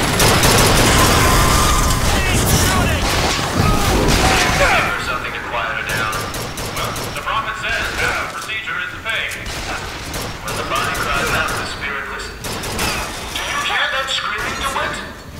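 Gunfire in BioShock Infinite as mechanical enemies are shot down, loud bursts of shots and crashing impacts mixed with clattering machinery, with a voice speaking over the action.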